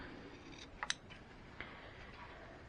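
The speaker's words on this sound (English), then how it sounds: "all you got to do is knock off this with your scissors" Quiet, crisp snips of scissors trimming the end of a zipper, two in quick succession and then one more a moment later, over a faint steady hiss.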